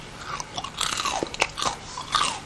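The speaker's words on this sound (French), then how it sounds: "vous allez écouter comment ça croustille" Crispy Korean fried chicken bitten and chewed up close, giving a series of sharp, loud crunches in an uneven rhythm with no talking.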